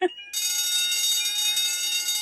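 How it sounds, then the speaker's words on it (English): A theatre fire alarm starts abruptly after a short spoken sound and then rings steadily as a loud, continuous electronic bell tone. "I forgot to turn the fucking fire alarm off"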